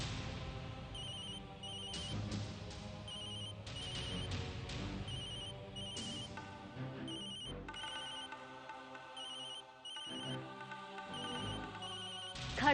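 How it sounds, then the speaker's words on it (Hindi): A telephone rings with repeated electronic trill bursts in a steady pattern over quieter background sound, continuing for several seconds without speech. "चल फोन उठा।"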